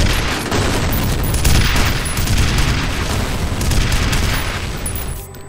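Missiles exploding in the video game F.E.A.R., a loud continuous barrage of booming blasts and rumble lasting several seconds before tapering off.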